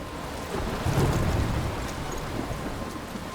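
Heavy rain hisses steadily in a thunderstorm near a lighthouse in Life is Strange, with a low rumble of thunder swelling briefly then fading under the constant downpour.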